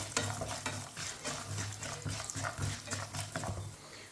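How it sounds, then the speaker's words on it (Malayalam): Peanuts and urad dal roast on a low flame for lemon rice, with repeated rhythmic scraping and clacking of a spoon against the pan over a soft sizzle and a low hum. "ഇത് ലോ ഫ്ലെയിമിലിട്ടിട്ട് നന്നായിട്ടൊന്ന് റോസ്റ്റ് ചെയ്തെടുക്കാം നമുക്ക്"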